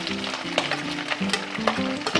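Leftover shrimp shells and heads frying in hot oil, a steady close sizzle with low tonal hum and occasional sharper crackles, no talk.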